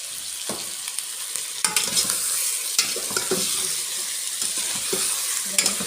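Meat sizzles and fries in a pan with onion and spices while a utensil stirs and scrapes, giving a continuous hiss broken by irregular clinks and scraping knocks, close up with no talk.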